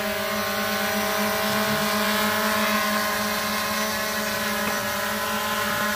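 A Holy Stone HS700D drone hovers nearby, its rotors giving a steady, even drone with stacked harmonic tones that hold constant throughout, loud and alone with no talk.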